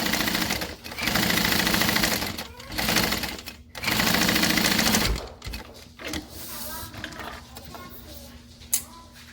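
A sewing machine bastes an eighth-inch seam on a long stitch length, its rapid mechanical whir running loud and close in several bursts with short pauses between them, then tapering off into quieter handling noises.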